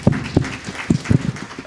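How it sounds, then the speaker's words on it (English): Scattered claps from an audience at a legal education conference in Kenya, a short irregular burst of separate hand claps rather than full sustained applause. "let us appreciate with Obama claps"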